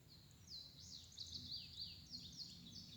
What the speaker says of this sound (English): So one of the birds I never knew was so damn common was an indigo bunting.